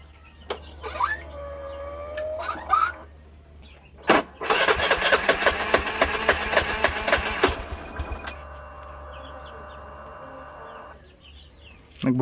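A Suzuki Burgman Street 125 scooter, just after a fuel filter replacement, has its fuel pump whirring before the starter cranks briefly and the engine catches, running for a few seconds, then settling back to a quieter hum.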